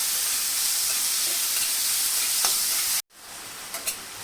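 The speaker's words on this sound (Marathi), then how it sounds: "कांदा छान परतून घेतला" Three medium onions, finely chopped, sizzle and hiss steadily in a hot pan with asafoetida, a broad, even frying noise for about three seconds that cuts off abruptly and then resumes more quietly with a few faint stirring scrapes.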